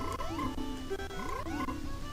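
Frogs croak in the video game Zelda: Majora's Mask, with rising, chirpy calls repeating over steady game background sound.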